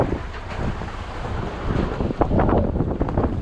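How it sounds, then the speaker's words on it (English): Strong wind buffets the microphone aboard a sailboat at sea in rough conditions, with roaring gusts and crashing waves blending into a loud, continuous rumble. "Huge waves."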